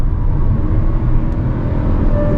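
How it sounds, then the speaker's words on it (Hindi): Inside the cabin of a 2024 Kia Sonet, its 1.0L turbo three-cylinder engine drones loud and low under hard acceleration, a steady rumble mixed with road noise. "वो इंजन साउंड जो है वो केबिन के अंदर आएगा"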